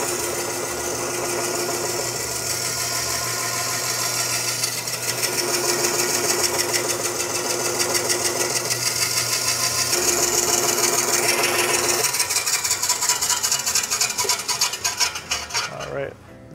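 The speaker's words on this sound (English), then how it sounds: "dramatic end of the rotating blade" A meat slicer's rotating blade runs steadily while slicing Red Wattle pork belly for chicharrones, a continuous whirring and metallic hum that winds down at the end.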